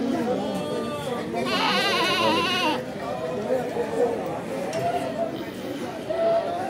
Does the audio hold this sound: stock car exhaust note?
no